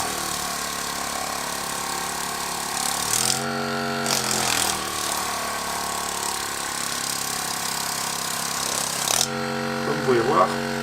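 Dustgo percussion massage gun buzzing continuously at close range, a dense motorized hum that shifts pitch as its speed changes, with brief voices in the background.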